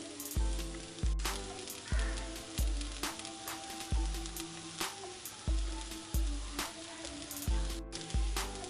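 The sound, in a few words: chicken and vegetable filling stirred with a spoon in a frying pan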